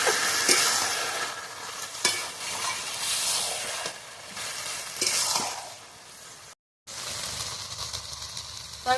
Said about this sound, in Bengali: এবার আমি ভালোভাবে তরকারিটা নেড়ে নেড়ে